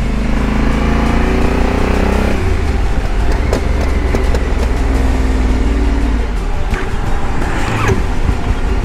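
A motorcycle engine with a clutch problem runs and revs unevenly up close, its loud rumble dropping and sputtering partway through, with no talking.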